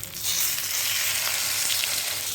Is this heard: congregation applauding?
no